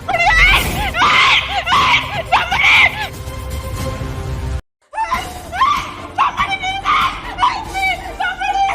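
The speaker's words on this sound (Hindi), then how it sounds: "और चिल्लाओ, कोई नहीं सुनेगा तुम्हारे यहाँ।" A young woman screams repeatedly in loud, rising wails, up close, with a brief silence midway. Then more screaming and pleading cries mix with a voice.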